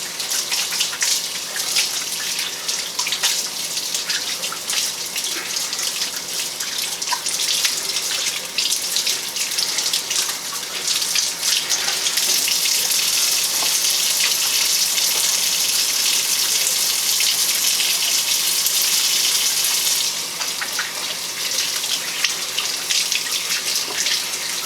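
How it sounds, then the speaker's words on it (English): Tap water runs steadily into a sink while hands are washed beneath it. A close, continuous splashing rush swells in the middle and carries on without speech. "let me wash my hands here"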